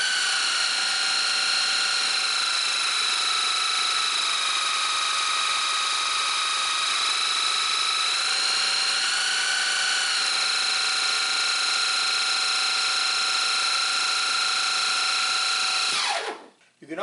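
A Dremel scroll saw runs at a steady speed with a high, even mechanical whine and buzz that holds for many seconds before cutting off abruptly at the end.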